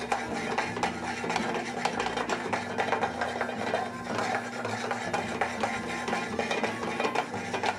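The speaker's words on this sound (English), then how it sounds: "you want to shake the skillet vigorously back and forth so that it incorporates the butter into the sauce" A skillet of butter sauce is shaken vigorously back and forth on the stove, giving a continuous close scraping, rasping sizzle with a steady rhythmic texture and no voices.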